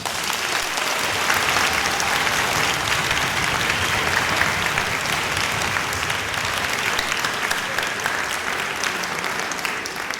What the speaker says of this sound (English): So I think they deserve one more round of applause.